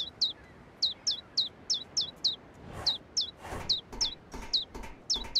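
Baby birds in a video game cheep in rapid high chirps, about twenty in quick succession, close and loud, with a few soft thuds and rustles in between.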